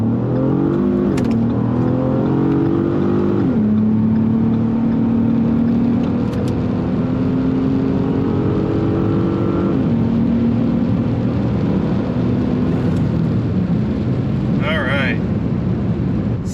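A Ford Taurus SHO engine revs hard and accelerates continuously with traction control on, its tone climbing and shifting through gears, loud and close throughout with no pauses.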